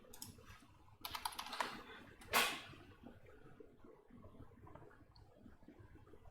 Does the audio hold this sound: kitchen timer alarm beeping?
no